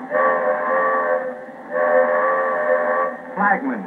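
Two long, steady blasts of a Lionel model train whistle give the release-brakes signal, loud and close, ending in a short rough burst.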